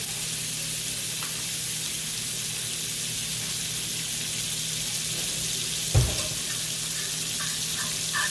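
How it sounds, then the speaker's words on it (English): A seasoned grouper fillet sears seasoning-side down in a preheated pan over medium-high heat, giving a steady, moderate sizzle with a single sharp clunk partway through. "you're just going to put this fish in the pan, seasoning side down"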